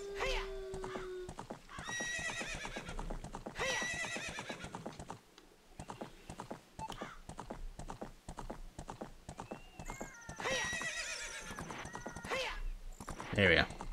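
A galloping horse in Ocarina of Time (Ship of Harkinian) thuds along with steady clip-clopping hooves and lets out repeated loud neighs, while a person talks over the game.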